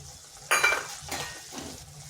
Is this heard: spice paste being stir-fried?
yes